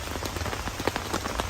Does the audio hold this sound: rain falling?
yes